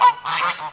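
Geese honk at close range on a farm, two or three quick nasal calls in a short burst with nothing else heard.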